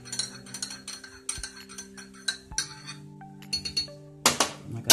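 A spoon clinks repeatedly against a glass while stirring lime and lemon honey tea, a series of bright ringing taps with lingering tones, close and clear with no talking.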